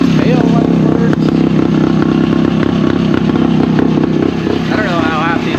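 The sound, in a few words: Yamaha RT360 motorcycle engine running to warm up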